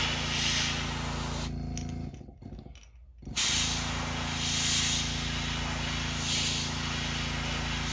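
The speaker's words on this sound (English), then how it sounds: "Kind of stay right on the center, just let it overspray, go down the side a little bit." An airbrush sprays paint onto a bluegill-patterned glide bait, a close, steady hiss of air that cuts out for about a second and then resumes, swelling and easing with each pass.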